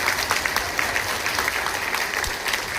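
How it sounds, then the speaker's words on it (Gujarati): Steady applause from an audience at a talk for elderly people, a dense continuous patter of many hands clapping at moderate volume. "તો એકવાર બ્રહ્મા બાબા માટે જોરદાર તાળીઓ."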